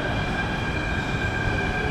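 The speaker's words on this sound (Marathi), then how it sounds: "तो बघा आत्ता जस्ट एक मेट्रो गेली." A Mumbai metro train runs past at Andheri station with a steady, loud rumble and rail hiss that lasts the whole moment, with no voices over it.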